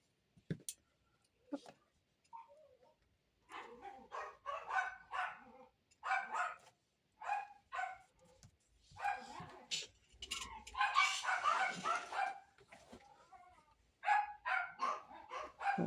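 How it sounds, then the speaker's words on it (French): Several dogs barking in a home, repeated loud yapping and barking bursts with short whimpers and yips between, close by and without speech. "désolé, mes chiens ils aboient"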